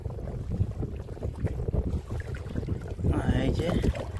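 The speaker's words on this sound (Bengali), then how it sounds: "আর প্রচণ্ড ঢেউ এই মধ্যখানে, নৌকা একবার এদিক ওদিক এদিক ওদিক করছে" Strong waves rock a fishing boat on the water in the Sundarbans, with a rough, windy wash and slapping water close around the hull and a voice partly under it.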